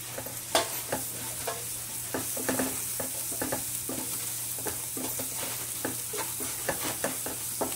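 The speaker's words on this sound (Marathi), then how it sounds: "चांगलं तेलात भाजून घ्यायचं आहे." Green chilies, salt and coriander roast in oil for a mustard-greens dish: a constant frying hiss and low hum under frequent, irregular clicks and scrapes of a spoon stirring against the pan.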